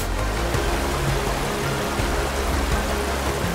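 A mountain stream in Colorado, its fresh water rushing in a steady, close, broadband wash with low gurgling, continuous and unbroken, with no voices.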